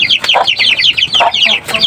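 Native chickens clucking close by in a dense, overlapping chatter of short repeated calls, loud and continuous over a quiet background.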